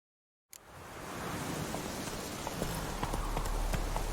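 Hooves of Roach, the horse in The Witcher 3, galloping amid a broad rushing wash of wind-like noise that starts abruptly and stays steady, with faint repeated hoof thuds underneath.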